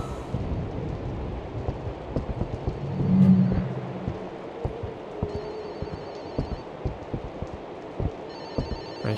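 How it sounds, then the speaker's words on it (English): Telephone in the horror game Fobia at the St. Dinfna Hotel, ringing with repeated faint bell trills over a dark ambient bed with rain and rolling thunder. "Hear the phone."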